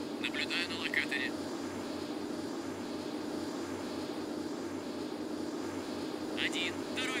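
Hawker Hunter jets in the Strike Fighters 2 game roll for takeoff with a continuous loud engine roar and a rhythmic low throb, while radio-style voices talk over it at the start and end.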